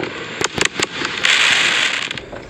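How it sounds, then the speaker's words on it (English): Fireworks going off all around a front yard: a quick series of sharp cracks and pops followed by a crackling, hissing burst, with no talk over it. "One 360 degrees fireworks."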